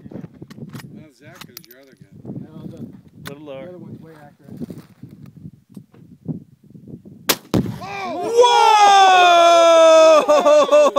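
A 1939 Mosin Nagant rifle firing a 7.62x54 round into a container of Tannerite outdoors: steady talking, then one sudden, very loud blast, followed by loud, excited voices.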